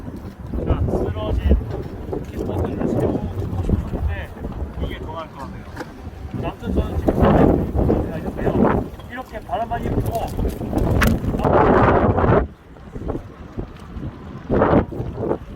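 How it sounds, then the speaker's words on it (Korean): Strong wind gusts buffet the microphone on a stormy winter morning in Berlin, roaring in uneven surges, with someone talking over the blustery noise. "바람 진짜 세게 부네요"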